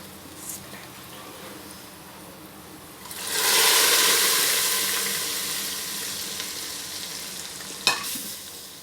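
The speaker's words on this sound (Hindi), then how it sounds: "दूसरी तरफ हमारा भगार भी रेडी है। चलें भगार डालते हैं।" Hot baghar tempering poured into masoor dal bursts into a loud sizzle that swells suddenly and slowly fades, with a sharp clink near the end.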